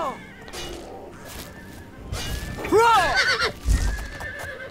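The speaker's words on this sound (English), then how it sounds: "the horse and the mountain lion are both fighting the bandit after having killed the wolf." A horse in the video game Oblivion whinnies in sharp, descending neighs while fighting a bandit, mixed with hoof clops and thuds of the struggle, loud and close.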